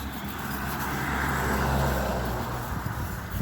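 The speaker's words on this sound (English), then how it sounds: "There's a car going past" A single car passes along a quiet country road near Little Gransden, a steady broadband engine and tyre rumble that swells slightly mid-pass and stays fairly constant throughout, with no talking.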